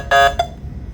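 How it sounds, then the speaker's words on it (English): A smoke detector alarm sounds a loud, harmonic electronic tone, one long burst followed by a shorter chirp, close by and with no talk over it. "I can't stop it because of the smoke detector."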